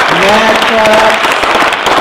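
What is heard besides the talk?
audience applause for the technical crew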